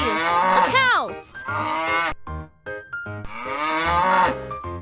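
A domestic cow moos several times, loud and close, with long drawn-out lowing calls broken by brief gaps.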